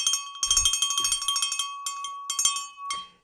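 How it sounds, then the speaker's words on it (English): A small bell rung by hand in quick repeated strikes, a bright jangling burst, a pause, then a few more short rings, close and fairly loud with no talking. "I'm just going to ring the bell"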